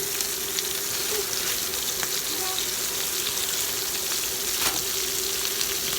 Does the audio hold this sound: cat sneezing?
no